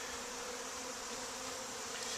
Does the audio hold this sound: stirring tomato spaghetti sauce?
no